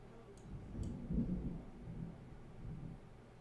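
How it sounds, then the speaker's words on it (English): Low, faint thunder rumbles during a Florida storm, a soft rolling swell that peaks and fades over a few seconds, heard from a distance indoors with no speech. "you guys hear that thunder?"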